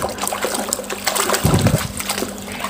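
Water trickles and splashes over toy vehicles being washed clean, a steady dribbling stream with a brief, louder splash in the middle.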